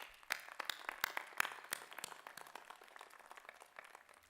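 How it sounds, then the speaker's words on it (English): Faint, distant applause at a spring college commencement: a crowd claps in a dense patter of quick, overlapping claps that slowly thins out. "let's give her another round of applause"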